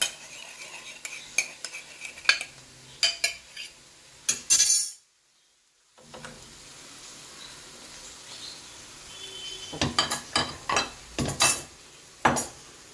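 Eggs beaten with a utensil for a spinach and cheese sandwich, then poured into the pan: close, rapid clinking and scraping strokes in bursts, a brief silent gap, then more clinks against the bowl.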